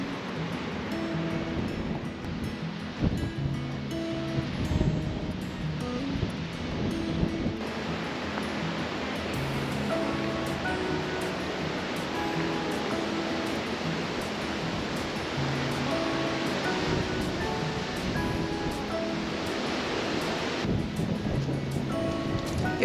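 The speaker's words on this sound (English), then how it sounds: "it was still very windy" Wind blowing hard during a walk along a creek in stormy weather, a continuous broad roaring rush with gusty swells, loud and steady with no talk.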